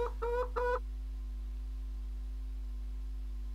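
Clucking from chickens bought as livestock in a farming simulation game: three short, bright tonal calls in quick succession at the start, then near silence over a steady low hum.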